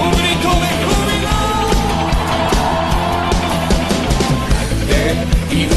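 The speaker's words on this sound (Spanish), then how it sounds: "Un grito de júbilo." A congregation at an evangelical Baptist church service in Lanús Este shouts and cheers for joy, a loud, sustained crowd roar of yells and whoops over steady band music that lasts throughout.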